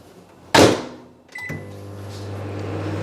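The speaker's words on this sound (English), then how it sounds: "You're gonna chuck it in the microwave for 10 seconds each burst until it's warm." Microwave oven heating chocolate: a sharp door slam or button clunk, a brief beep, then the steady low hum of the oven running.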